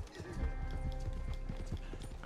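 Horse hooves clip-clop at a steady galloping rhythm in Red Dead Online, close and continuous, mixed with low game ambience and rumble throughout.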